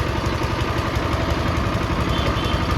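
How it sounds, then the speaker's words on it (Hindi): A welding machine running steadily on a gate-building job, a loud close mechanical drone with a rough rhythmic pulse and no speech. "साइड में वेल्डिंग शुरू भ गेल छै देखियो"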